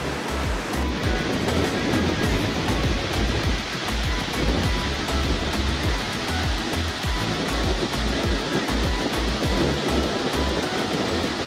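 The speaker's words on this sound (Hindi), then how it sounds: "ये देखो जी समुद्र की लहरें" Sea waves break on rocks at Alibaug beach, a loud, continuous roar of surf with rushing wash and spray, close by and unbroken, with no voices.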